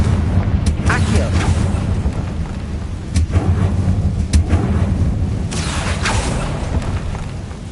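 Fiery Confringo spell blasts in Hogwarts Legacy, several loud booming bursts with crackling rumble over a constant low roar, a voice speaking between them.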